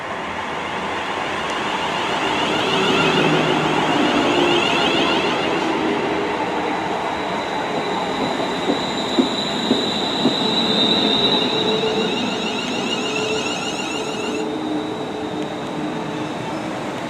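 A West Midlands Railway train pulls into a station bound for Rugeley Trent Valley, its steady rumble building then easing, with faint wheel squeal and clicking over the rails and no talk.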